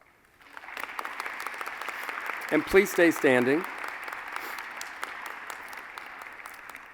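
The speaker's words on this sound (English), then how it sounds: "A round of applause." Audience applause at a naturalization ceremony swells into steady clapping, while someone speaks briefly over it partway through before the clapping carries on.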